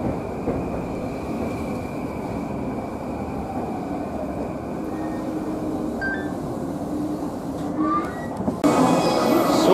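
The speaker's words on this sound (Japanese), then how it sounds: "列車は新橋に到着です。" Yamanote Line E231 series 500 train arriving at Shinbashi, heard from inside as a steady rumbling roll with faint brake squeals, growing louder near the end.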